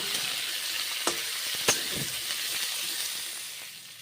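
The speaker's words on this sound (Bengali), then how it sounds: "নেড়ে চেড়ে গরম তেলে ভেজে নিচ্ছি কাঁচা কলা" Raw banana pieces fry in hot oil with a steady crackling sizzle, broken by a couple of sharp scraping knocks as they are stirred around the pan; no voices.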